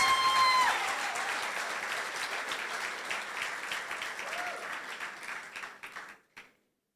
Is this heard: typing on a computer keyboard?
no